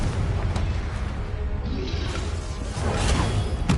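Confringo blasting spell explosions in the Hogwarts Legacy video game, rumbling booms with whooshing bursts and sharp crackling impacts, loud and dense, swelling again near the end.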